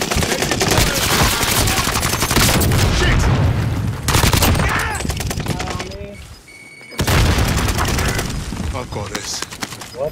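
Rapid automatic gunfire and heavy bursts from a Warzone match fill the mix, loud and sustained with a brief lull, under players talking over voice chat.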